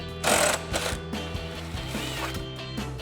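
Impact wrench fitted with a 13mm socket removing a subframe bolt on a 2015-2025 Ford Mustang, heard as a close, steady, rattling mechanical hammering that runs for the whole few seconds.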